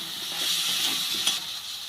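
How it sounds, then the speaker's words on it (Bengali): Potatoes frying with spices in a pan, a steady close sizzle with stirring scrapes and a brief louder crackle near the middle, no talking. "মশলা দিয়ে আলুটাকে খুব ভালো করে কষিয়ে নিয়েছি"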